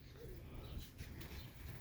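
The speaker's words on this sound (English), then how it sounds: "I don't even know what kind of bird it is." A wild bird calls with faint, low cooing sounds against a quiet background hiss, soft and somewhat distant.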